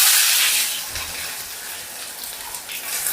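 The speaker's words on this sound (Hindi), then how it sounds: "प्याज को डाल करके अच्छे से फ्राई कर लेंगे" Sliced onions hit hot oil already tempered with cumin, black pepper and bay leaf, giving a loud, bright sizzle that bursts at first and then settles into a steady crackling hiss.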